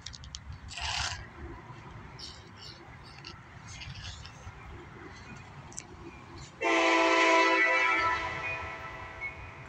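A southbound CSX mixed freight train rumbles past at a crossing, its horn sounding briefly early on and then blaring long and loud near the end.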